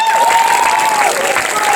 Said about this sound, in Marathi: जरा एकदा जोरदार टाळ्या.